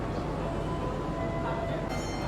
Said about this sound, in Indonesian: Dan ini dia kereta api Ranggajati berhenti stasiun Pasuruan di wilayah Daup 9.